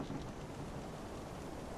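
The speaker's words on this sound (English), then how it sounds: "So that's the rain." A rain sound effect plays in the Fantasy Grounds Unity virtual tabletop as an even, dense hiss of falling rain, faint and unbroken throughout, with no voices.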